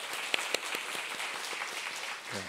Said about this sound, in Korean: 우리 큰 박수로 맞이하겠습니다